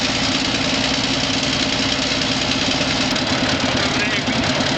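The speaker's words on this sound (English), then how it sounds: "That 12-volt turbo sounds like it's struggling to fire on all cylinders during this cold start." A diesel truck with a 12-volt turbo engine labors through a cold start in icy winter conditions, a loud, close, unbroken knocking rattle with an uneven idle that runs steadily the whole time.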